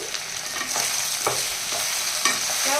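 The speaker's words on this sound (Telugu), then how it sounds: "ఒకసారి బాగా కలిపేయాలి" Brinjal fry with turmeric and salt being stirred in a pan, the spoon scraping and turning the pieces in a few rhythmic strokes over a steady close sizzle, with no talking.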